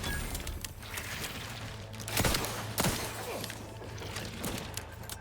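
Gunfire in The Outer Worlds 2 video game, a few sharp bursts and impacts over a busy layered game soundscape at moderate level.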